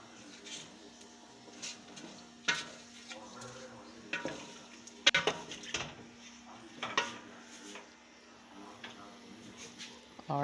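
Boiled beef pulao stirred in a cooking pot, giving repeated scraping and clinking knocks of a spoon against the metal at an uneven pace over a steady low hum.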